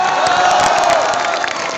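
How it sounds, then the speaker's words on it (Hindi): A loud crowd at a JEE Main 2022 results celebration in Kota cheers and whoops with applause mixed in, a brief burst of excited noise from many people close by. "जोरदार तालियां बजा दो"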